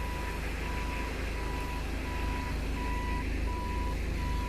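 Large search and rescue truck in reverse leaving a shop, its backup alarm beeping at a steady, even rhythm over a loud, constant engine rumble.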